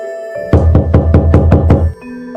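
A burst of about seven quick, loud knocks on a door, close by and evenly spaced, with a faint tone in the background before and after.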